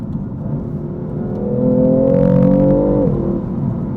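A BMW drives along an uneven, poorly kept road, its engine whirring and rising steadily under load from inside the cabin, then easing off as the revs drop, loud and continuous with no talking.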